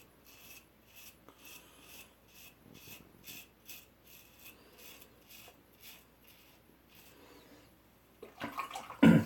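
A Van Der Hagen safety razor scraping down the face with the grain during a wet shave, a soft rhythmic rasp of repeated short strokes at close range, ending in a louder burst of splashing rinse water.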